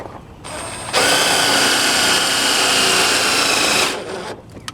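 A power drill whines steadily for about three seconds at close range, drilling into a metal part and throwing chips, starting abruptly and winding down, with quieter moments before and after.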